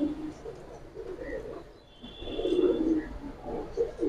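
Pigeons at a seller's stall, including Giribaz, silver and Pankhi breeds, coo in low, uneven bursts, rising and falling with a short lull midway, moderately close.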